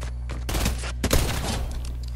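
Pistol shots in a video game, a quick cluster of sharp cracks in two close bursts over a low background hum.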